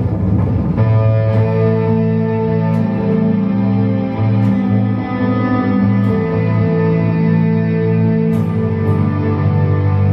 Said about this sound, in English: Because it has a kind of a distortion,